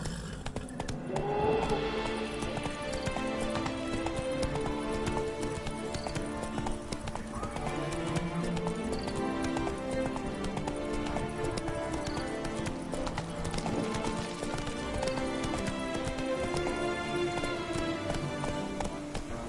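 Roach, Geralt's horse in The Witcher 3: Blood & Wine, gallops at a steady clip-clop rhythm of hooves, with an occasional whinny, under a continuous orchestral game score.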